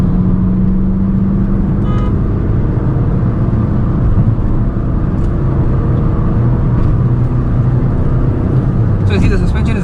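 A 2010 Skoda Laura 1.9 TDI diesel engine drones steadily from inside the cabin, its pitch climbing gradually and growing louder past 2000 rpm as it revs harder, with road rumble underneath throughout.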